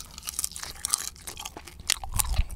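Close-up bites into crispy air-fried chicken skin cooked in a Philips Airfryer XXL, a rapid series of sharp crackling crunches and chewing sounds, loudest toward the end.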